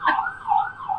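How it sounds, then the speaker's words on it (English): A wailing siren rising and falling outside in a city, heard at a moderate distance with a slightly muffled tone, like an emergency vehicle passing in the street. "you got the murmur outside, traffic noise, occasional siren"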